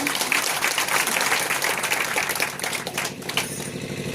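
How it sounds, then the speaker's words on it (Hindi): Audience applause at a Hindu devotional discourse on the Devi Bhagavat Katha, a dense steady clapping that fills the whole stretch at moderate loudness, with some engine-like rumble underneath. "इधर जोरदार तालियां।"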